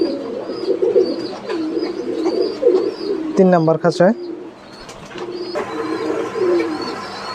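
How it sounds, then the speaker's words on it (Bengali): A pair of ice-face pigeons with a chick in a cage of a pigeon loft give close, throaty cooing, including one strong rolling coo, while someone talks over them. "এইখানে এক জোড়া আইসমুখী রানিং কবুতর, সাথে একটা বাচ্চা আছে"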